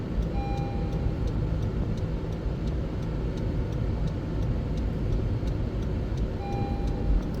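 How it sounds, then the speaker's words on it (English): 2017 Honda CR-V Touring AWD with a 1.5-liter turbo engine, misfiring while driving on a road: a steady low rumble of engine and road noise inside the cabin, fairly quiet, with no voices. "We're misfiring like mad."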